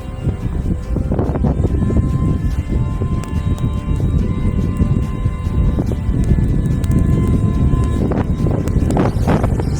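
A snowblower runs during a major snowstorm in Hutchinson, Kansas, its steady engine drone blending into continuous rough wind noise on the microphone throughout.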